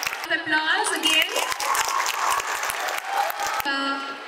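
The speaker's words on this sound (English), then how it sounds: "Applause again." Applause from an audience welcoming a visiting professor from the University of Padova to a school, steady clapping that runs beneath a speaker's voice amplified over a public address system.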